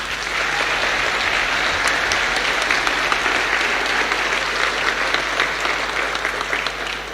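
Loud, sustained applause from a school ceremony audience celebrating a graduating Year 12 class, a steady dense patter of clapping that fills the whole stretch without letup.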